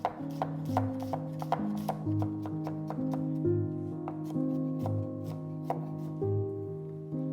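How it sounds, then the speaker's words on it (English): A knife chops garlic on a cutting board for fried rice in steady, even strikes, the close, crisp knocks repeating at a regular pace with no talk. "Finally, chop 3 to 4 pieces of garlic"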